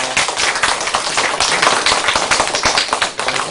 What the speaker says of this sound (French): vos applaudissements, moi je vous en remercie